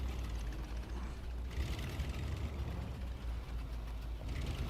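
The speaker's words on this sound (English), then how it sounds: "The engine sound is kind of odd on this. It sounds more like a tractor than it does a truck." The Loadstar 1700 Scout truck from the SnowRunner video game idles with a slow, low-RPM, tractor-like rumble that holds steady and fairly loud throughout.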